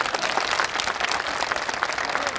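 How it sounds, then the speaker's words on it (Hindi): A rally crowd at a public meeting bursts into loud, steady applause, dense clapping with no break for the full stretch. "एक बार जोरदार ताली बजा दीजिए।"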